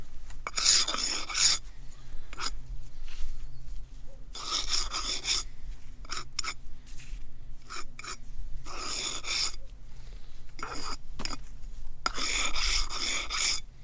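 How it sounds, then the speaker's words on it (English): Soft brush swept over the mortar joints of wall copings, a series of close, dry scratchy strokes in separate bursts with quiet pauses between, over a low background hum. "we'll run a nice soft brush over them then"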